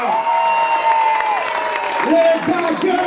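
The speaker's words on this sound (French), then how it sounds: "je vous demande d'applaudir les Daggers" Audience applause at an anniversary gala, a dense, steady patter of clapping with some cheering and shouted voices mixed in throughout the short burst.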